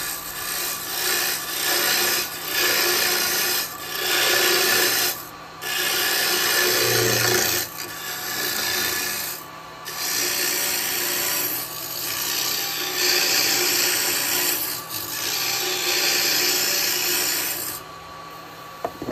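Wood on a lathe is cut with a 9mm carbide turning tool, giving a close, continuous rasping scrape in long passes separated by short gaps, over a steady machine hum.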